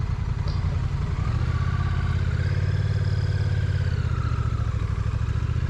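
Honda Rebel 1100T motorcycle shifting into gear and riding off, its engine running steadily and rising in pitch as it pulls away, close and continuous without talk.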